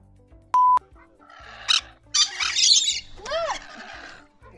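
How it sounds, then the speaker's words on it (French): Birds in an Australian aviary at a zoo give scattered squawks and harsh calls, with a sharp electronic beep early on and quiet gaps between the bursts. "On termine dans cette volière australienne au milieu des oiseaux."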